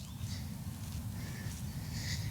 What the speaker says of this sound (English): whether it's the sound of the birds, which at this time of day seem to be pretty noisy